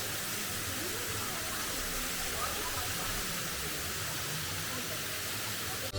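Chhoi waterfall in the Tirthan Valley, its falling water a constant broadband roar and hiss that stays steady and fairly loud from start to finish.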